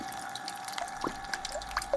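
A solar-powered lotus water fountain in a garden gives soft, sparse drips and small splashes, close and quiet, a few droplets falling over about two seconds.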